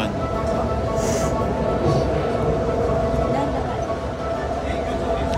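Connecting airport train between terminals at Incheon Airport, a steady loud rumble and hum of the moving carriage throughout, with people talking over it.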